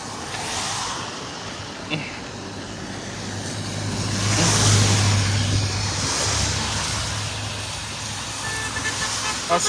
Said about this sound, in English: That's traffic approaching the bridge.